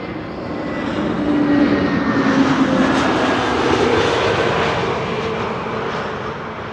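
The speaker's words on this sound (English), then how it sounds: "In the meantime, the sound of the EasyJet." An EasyJet airliner arrives at Amsterdam Schiphol, its jet engines giving a loud, broad, steady roar that swells and eases slightly as it passes, with no talk.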